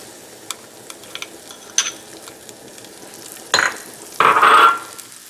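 A date and fig mixture cooks in a pan during preparation of fig and date nut rolls, with faint stirring clicks early on and then two louder sizzling bursts near the end as the mixture hits the heat.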